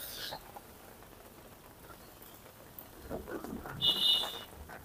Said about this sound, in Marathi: काय पाऊस थांबणार आहे का नाही?